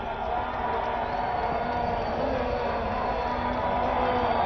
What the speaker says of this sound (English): With that single, loud cheer.